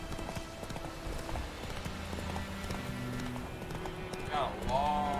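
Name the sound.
horse hooves in video game The Witcher 3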